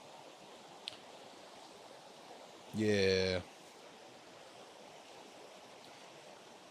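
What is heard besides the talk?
river flowing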